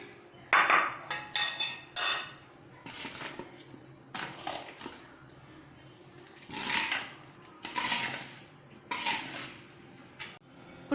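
Rice flour puttu being mixed with ghee-roasted coconut in a vessel, with irregular bursts of spoon and utensil clinks and scraping separated by quiet pauses, close and without talk.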